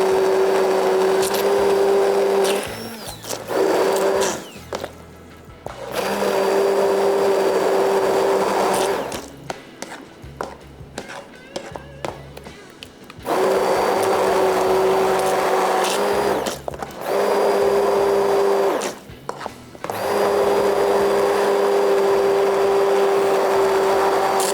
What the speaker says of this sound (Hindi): और पीसने के लिए मशीन की ऑन।